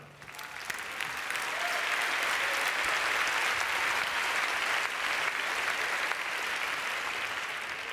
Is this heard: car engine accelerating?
no